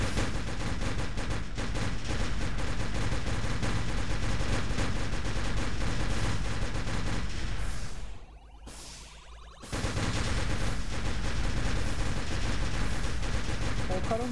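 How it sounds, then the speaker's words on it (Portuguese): Gunfire in the Minecraft modded game Machinecraft, a dense continuous stream of shots and bangs that drops out briefly midway before resuming at full loudness, with no speech. "Estão atirando em mim já."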